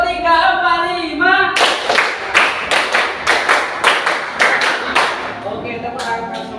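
A classroom of students claps in rhythmic groups, sharp unison claps in bursts of three, four and five after a spoken count, loud and close with voices chanting along.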